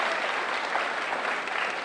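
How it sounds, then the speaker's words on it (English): Dense, steady applause from an audience at a Politics & Pints event with Senator Rand Paul and Dom Giordano, a continuous wash of many hands clapping at even loudness throughout. "Give a round of applause"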